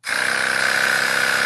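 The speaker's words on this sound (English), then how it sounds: "I'm going to put it in the massage gun right now." A Theragun massage gun runs steadily and loudly, a dense motorized buzz with a fast percussive pulse that starts abruptly and holds even throughout, close up with no talking.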